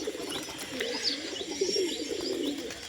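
Pigeons coo softly and continuously at a roost, with low murmuring calls overlapping against steady background ambience and a few faint chirps.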